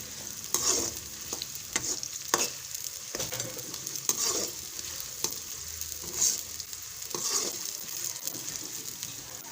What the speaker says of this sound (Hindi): प्याज को पहले अच्छी तरह से फ्राई कर लेते हैं ऑयल में।